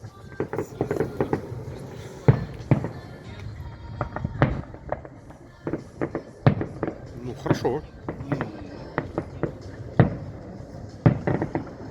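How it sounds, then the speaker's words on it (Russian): Fireworks salute popping and cracking in irregular bursts, sharp bangs scattered across the clip, with people talking briefly in between. "Смотрите, салют у нас теперь есть"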